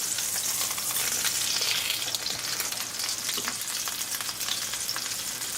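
Coconut-breaded chicken breast fries in a pan after being turned over, giving a steady, dense, close sizzle with soft crackling throughout and no voices.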